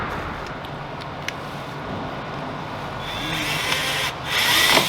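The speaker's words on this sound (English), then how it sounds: "I'm gonna drill 1, 2, 3 holes in here, and then put the screws in that they gave me, self-tappers" Power drill boring holes for self-tapping screws in the front lip of a BMW F10 535i M Sport, a steady close whir with a brief spike and a louder, higher drilling burst near the end.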